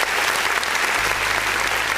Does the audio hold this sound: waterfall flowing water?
no